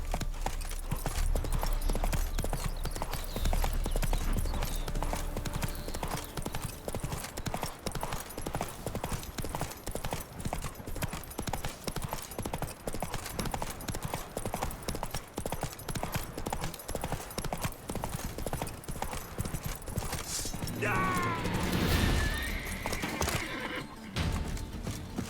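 Rapid hoofbeats gallop steadily under music-like game sounds in The Witcher 3, then a horse neighs loudly near the end.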